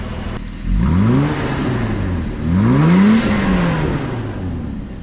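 An 80 Series Land Cruiser with a freshly repaired exhaust revs twice, each time rising in pitch and then falling back toward idle, loud and close with a deep exhaust tone.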